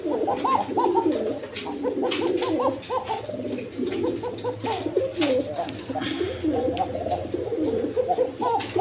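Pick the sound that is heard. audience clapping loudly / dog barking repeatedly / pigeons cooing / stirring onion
pigeons cooing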